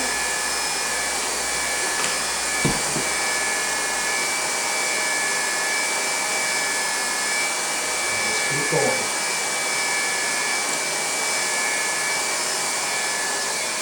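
A handheld heat welder for flooring blows hot air in a loud, steady, close hiss that holds constant throughout, with a few faint knocks and clicks underneath.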